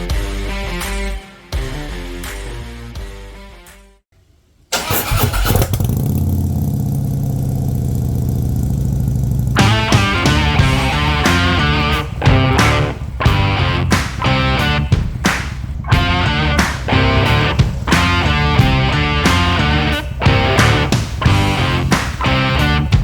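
A 2016 Harley-Davidson Ultra Limited touring motorcycle with the 103 high output V-twin cranks over after a short gap, then settles into a loud, close, steady rumbling idle with rhythmic pulsing from the engine.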